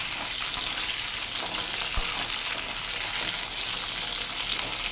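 Cut eggplants for a stuffed curry fry in hot oil with a continuous crackling sizzle, marked by one sharp clack of a utensil against the pan.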